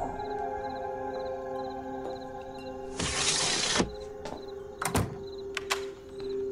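A window slides shut with a brief rushing scrape, followed by a couple of solid thunks as a door closes nearby.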